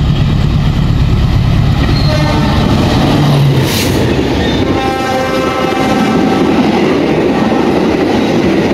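A passenger train bound from Solo Balapan to Bandung passes at full speed, its locomotive engine roaring loud and close over clattering wheels, with a brief horn blast partway through.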